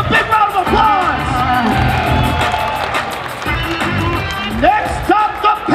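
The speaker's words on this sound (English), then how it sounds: "Eddie Wineland and Brad Pickett, ladies and gentlemen, give them a big round of applause" Arena crowd at a UFC 155 weigh-in cheers and applauds for fighters Eddie Wineland and Brad Pickett, a loud, dense roar with yells and whoops, while an announcer's voice cuts through over it.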